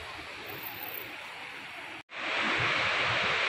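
Sea waves on the beach at Vizag roll in as a steady close wash of surf mixed with wind noise, briefly cutting out before returning louder and broader.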